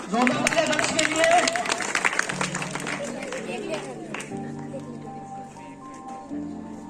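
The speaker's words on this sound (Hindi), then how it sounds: "बहुत ज्यादा बेहतर, जोरदार तालियां" A crowd at a school science exhibition claps and cheers loudly for a few seconds, the applause fading as music with steady tones continues underneath.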